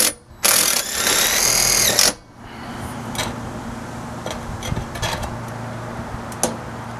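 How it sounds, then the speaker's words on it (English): A power drill drives screws into the side of chimney wind bracing on a woodstove project. Two loud, sustained whirring bursts come close together, followed by quieter clicks and handling noises. "Screwing right into the side of it."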